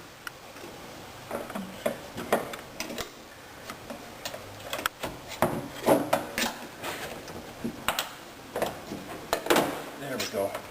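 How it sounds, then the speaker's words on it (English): A putty knife pries plastic push pins on a Pontiac G5 or Chevrolet Cobalt door panel, giving scattered clicks and taps up close, with someone talking at times. "you just have to work it around until you pop these panels off."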